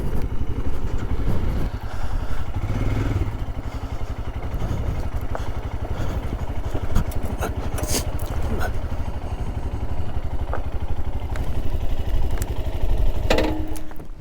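Royal Enfield Himalayan Scram 411, a 2022 motorcycle, chugs steadily through a trail ride with a continuous single-cylinder engine drone and occasional clatter, loud and close throughout.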